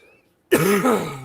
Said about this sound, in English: This cough still has not left me